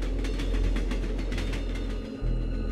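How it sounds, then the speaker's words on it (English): A steady low rumble with a faint rhythmic clatter of a train in the video game Hello Neighbor, continuous and heavy throughout. "The rumbling noise was the train."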